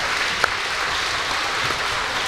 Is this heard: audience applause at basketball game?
yes